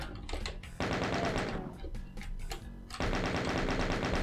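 Rapid gunfire in Doom, a loud, close stream of machine-gun-like shots with brief pauses between bursts, fast rhythmic reports continuing strongly through the end.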